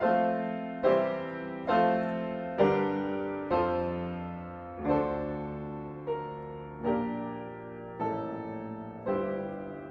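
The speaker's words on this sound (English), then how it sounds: "example of a tonal chord progression" Piano chords change roughly once a second in a slow, steady progression, each struck chord ringing and decaying before the next.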